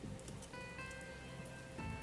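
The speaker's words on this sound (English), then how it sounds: "with the sound the rain knocked upon the leaves mixed" Rain pattering steadily on leaves, a soft continuous wash of drops with faint tonal music running underneath.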